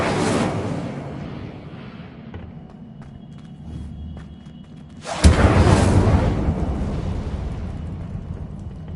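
An Incendio fire spell cast in Hogwarts Legacy, heard as a fading roar that gives way to a sudden loud fiery burst and rumbling whoosh that slowly trails off.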